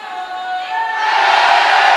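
Home crowd cheering in a big high school gym during a Monday night volleyball game, a steady broad roar of voices that swells and grows louder partway through.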